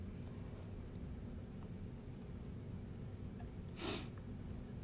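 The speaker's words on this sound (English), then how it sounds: "I have the sniffles." A single short sniffle, close and quiet, over a low steady background hum.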